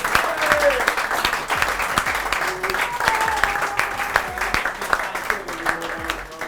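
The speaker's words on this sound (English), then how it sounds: "Round of applause for that partnership." A crowd at a football match applauds steadily with dense, sharp claps and some cheering voices mixed in, loud and close throughout.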